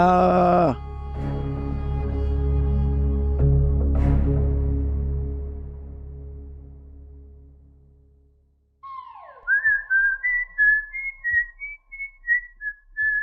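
A person whistles a melodic tune in short rising and falling notes, loud and close, following a sustained sung or hummed tone that fades out.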